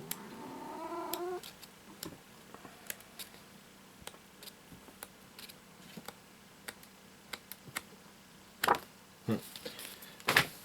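A cat meows near the start, a short rising cry inside a cluttered room, followed by scattered clicks, taps and rustling of objects being handled; no one speaks.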